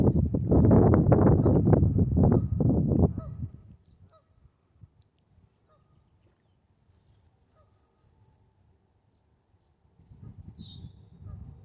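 Nesting geese honk loudly in a dense, overlapping chorus outdoors along a spring beaver trapline, then fall quiet before wind noise and a few soft calls return near the end.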